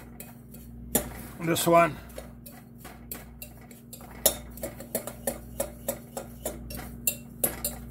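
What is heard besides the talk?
mixing chocolate cheesecake ingredients in a bowl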